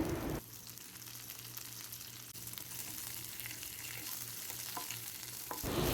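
Curry leaves and other ingredients frying in oil for a Kerala-style prawn roast give a soft, steady sizzle and spatter, fairly quiet and close, with no talking over it.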